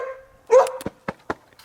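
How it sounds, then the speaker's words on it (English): A dog gives a single short, sharp bark near a shop during maintenance on a CAT 279D compact track loader, followed by a few quieter clicks and taps. "Don't be barking at me."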